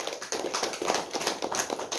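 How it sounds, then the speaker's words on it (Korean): A church congregation applauds in a Methodist Sunday service, a brief, steady patter of many hands clapping together at moderate volume, with no speech over it. "하나님께 영광의 박수 드립시다."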